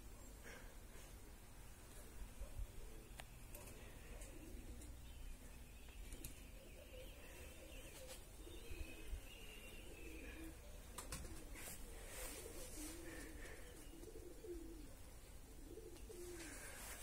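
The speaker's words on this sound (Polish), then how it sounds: "Tak, to nie był nasz gołąb." Pigeons coo softly and steadily in the distance around a homing loft, with occasional wing flaps under faint background ambience.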